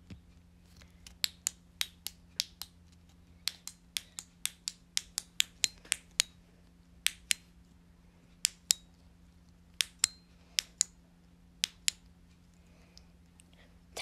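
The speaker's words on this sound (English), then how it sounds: "Let's just do some ASMR clicking." Sharp, dry ASMR clicks sound up close in an otherwise quiet room, coming in irregular clusters and single taps over a faint steady hum.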